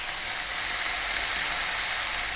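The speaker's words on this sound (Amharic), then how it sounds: "ለ3 ለ4 ደቂቃ እንጠብሰዋለን" Chicken and onion fry in a pan, a constant bright sizzle, close and fairly loud, with no pauses.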